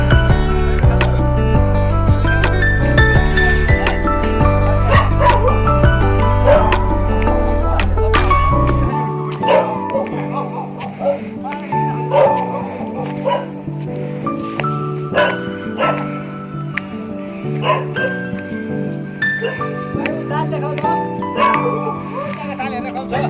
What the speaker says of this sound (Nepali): यो घरमा कुकुर रहेछ नि हल्का